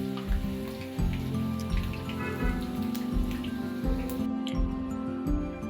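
Puris deep-frying in ghee, a constant crackling bubble and sizzle with a pulsing rhythm, close and moderately loud, with no voices.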